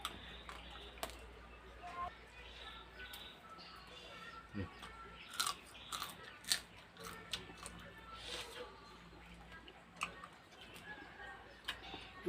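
Close, crunchy chewing of spicy green mango salad with seafood, irregular wet bites and crunches over soft background noise, with a voice occasionally speaking.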